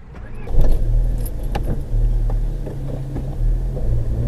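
A car drives slowly along Mahistratska Street, recorded by a dashcam from inside the cabin, with a steady low road rumble and small rattles and jangling clicks over it.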